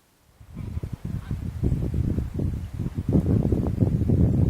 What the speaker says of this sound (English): It's a fairly regular scene over our house, although the geese fly in both directions.